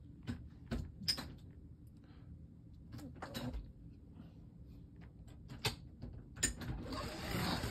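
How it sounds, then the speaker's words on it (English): A door is opened, heard as scattered clicks, latch knocks and mechanical clunks at close range, quiet and irregular, with a louder rattling burst toward the end. "Should I open the door?"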